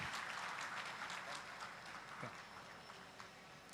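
Seminar audience at a real estate marketing event applauding for a participant, dense clapping that starts loud and slowly thins and softens, with a faint voice briefly underneath.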